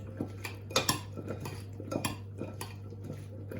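Olive oil being stirred through a courgette and lemon salad in a bowl, with a utensil scraping and clinking against the dish in close, irregular strokes over a steady low hum.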